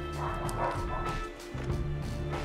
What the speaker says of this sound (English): I apologize if you can hear the dogs in the background